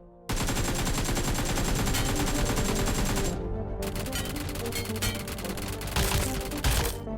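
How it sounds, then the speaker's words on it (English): Rapid automatic hip-fire from an AKM rifle and a P90 submachine gun in the PUBG Mobile video game, loud continuous bursts with a brief pause near the middle before firing resumes. "Here is a side-by-side hip-fire accuracy comparison of AKM and P90."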